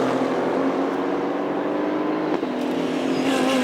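A Century Motorsport Aston Martin GT race car at a circuit, its engine note droning steadily with a brief dip before rising again, loud and fairly close throughout.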